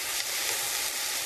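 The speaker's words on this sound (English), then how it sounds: "we're going to saute those just enough to where they're starting to get tender" Sliced carrots sautéing in a pan for a pasta primavera give off a steady, close, even sizzle that continues without a break and with no voices.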